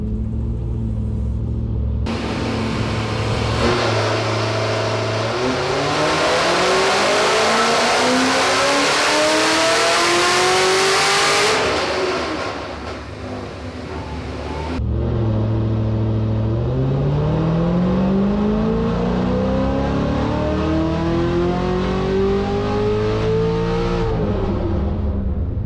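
A 1000-horsepower Chevy SS with a Magnuson supercharger revs hard twice at high RPM, each loud, rising engine sweep climbing and then cutting off, with a deep rumble between.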